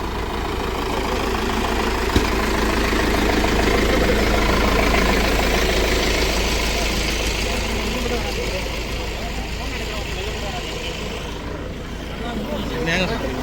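Mahindra tractor engine idling at a launch event in Thanjavur, a steady low rumbling drone that holds throughout with slight swells, close and loud amid crowd chatter and voices.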